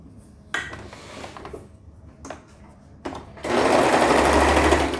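A sewing machine stitching teen pajamas starts with a few knocks and clicks, then runs in a loud, steady whirring burst at the end.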